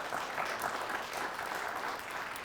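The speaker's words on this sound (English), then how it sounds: "Let's give them a round of applause." A studio audience applauds a high school quiz bowl team, a steady, moderately distant wash of clapping that stays even for the whole stretch.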